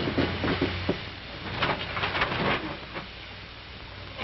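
Rumbling, clattering interior noise of a 1950s train, with a steady low drone and faint rhythmic clacks, moderately loud and continuous throughout.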